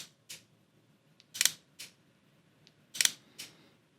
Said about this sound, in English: But here is the sound of the 90mm.